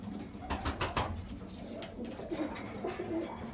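Red Iraqi pigeons cooing inside a loft, soft repeated low coos from several birds nearby, with flapping and shuffling noises early on and no talking.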